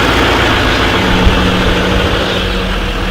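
A Cummins diesel engine idles in a truck with a low, steady rumble, close and continuous throughout, with no voices.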